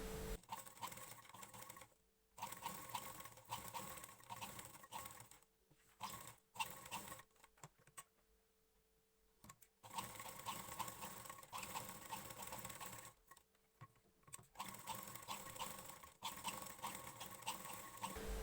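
Sewing machine stitching a blouse neckline onto buckram, running in steady bursts of rapid mechanical clatter with brief pauses between runs and a longer quieter stretch in the middle.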